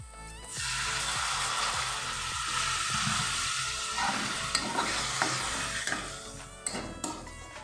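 Spice paste for bhola fish curry sautéing in a pan with a little water, a loud, steady sizzle with stirring and scraping strokes, close, fading slightly with a few clinks near the end.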